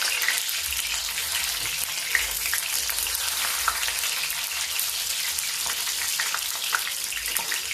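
Lentil fritters deep-frying in shallow oil in a kadai, with oil spooned over them, give a steady dense sizzle and crackle throughout, close and alone, with occasional small spoon clinks.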